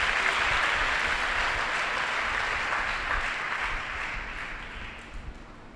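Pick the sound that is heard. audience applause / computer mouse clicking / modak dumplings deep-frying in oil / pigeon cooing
audience applause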